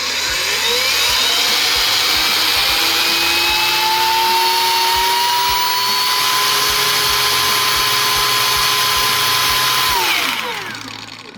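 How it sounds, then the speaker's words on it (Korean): A Jupiter cordless grinder spins at its third speed setting, giving a loud, steady high-pitched whine that holds level for about ten seconds and then winds down as it stops. "충전 그라인더 주피터 제품이죠. 이 제품 3단 속도 조절이 되니까 3단으로 확인해 보도록 할게요"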